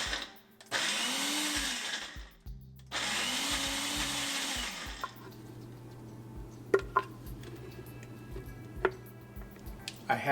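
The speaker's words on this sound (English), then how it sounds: "Now we'll blend it into a paste." Kitchen blender whirring in two loud bursts as it purées onion into a paste for Indian methi matar malai, followed by quiet clinks and taps of kitchen utensils.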